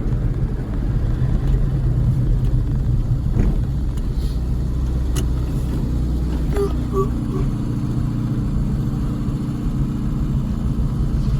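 A classic Mini car driving, its engine a steady low rumble throughout with some road noise, heard from inside the cabin with no talk.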